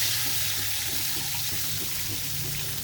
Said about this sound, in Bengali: এতে একটু দিয়ে দেবো তেঁতুলের জল।